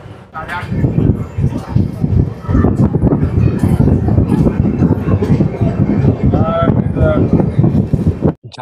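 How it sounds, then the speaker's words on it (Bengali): The 12369 Kumbh Express (Howrah to Haridwar) pulls out of Jhajha station, with a loud, steady rumble of rolling stock and wind buffeting the microphone throughout, a few faint whistle-like tones rising near the end. "গাড়ি ছাড়ছে ঝাঁঝা থেকে।"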